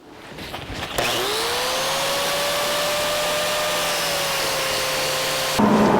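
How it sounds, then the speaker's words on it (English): An angle grinder grinds down a weld on a 1982 Jeep CJ7 frame, spinning up after a second into a loud, steady high whine that holds for several seconds before shifting at the end. "what we're going to try to do is just grind the weld"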